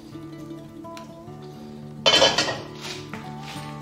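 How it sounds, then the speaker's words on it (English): Oil tipped from a frying pan into a pot in a home kitchen while making salt and pepper prawns: a sudden clattering clink of metal on metal, then a short pouring rush that fades, over a steady low hum. "what we can do is just tip the oil into the pot"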